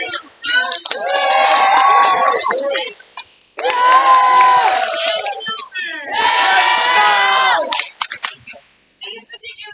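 Middle school students shouting and cheering for their house at an awards day, three loud bursts of massed young voices roaring, each lasting a couple of seconds with brief pauses between, ending in scattered whoops.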